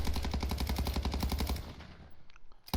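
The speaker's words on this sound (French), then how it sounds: "Ici, je tire." A burst of rapid automatic gunfire from the Warzone video game rattles in a fast even rhythm for about a second and a half, then trails off into faint echoes before a short final crack.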